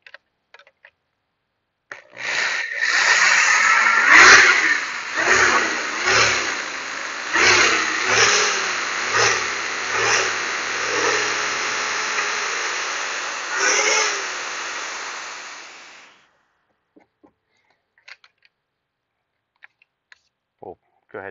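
A power drill bores a half-inch hole through a vinyl fence post, its motor whining loudly and steadily for about fourteen seconds with slight pulses as the bit cuts, then stopping into quiet.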